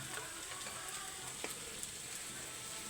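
Onions and curry leaves sauté in a pan for Kerala-style chicken curry, a faint, even sizzle with a few small stirring clicks, quiet throughout and free of speech.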